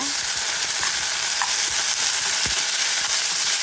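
Onion, curry leaves and tomatoes sauté for urad dal tomato chutney, giving a loud, dense, continuous sizzle with faint stirring clicks underneath, heard up close.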